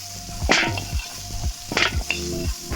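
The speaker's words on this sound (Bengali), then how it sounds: "এটাকে এবার নেড়ে লাল লাল করে ভেজে নেবো" Potatoes frying in a pan of oil for a fish curry, a steady sizzle broken by a few sharp scraping stirs and clatters of a spatula, close and without talk.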